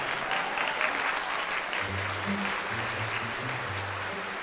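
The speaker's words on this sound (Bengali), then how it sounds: "এহেন তাজ্জব ঘটনা দেখে চরচর হাততালি পড়ে" Enthusiastic crowd applause used as an effect in a narrated Bengali magic-show story, a dense, steady wash of clapping with a low hum underneath, continuous throughout.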